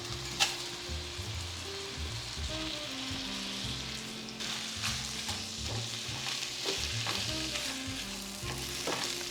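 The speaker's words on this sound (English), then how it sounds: "add in my rice, and that's just so it can toast up a little bit before adding all the other stuff" Rice toasting in sausage oil in a one-pot meal gives a steady, dense frying sizzle with light crackles and occasional stirring taps, close and continuous with no voices.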